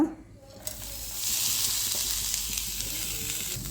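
Steady, close sizzling of grated coconut frying in a hot pan, starting after a brief quiet moment and holding a constant crackling hiss.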